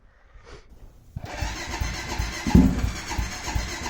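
A Honda 400EX ATV engine cold-starts after a quiet moment, catching abruptly and settling into a steady, loud, uneven idle with chugging pulses close by, no voices.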